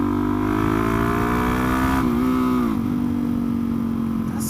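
Suzuki DR-Z motorcycle engine held at a loud, steady high rev close by, briefly dipping and recovering midway before holding strong again.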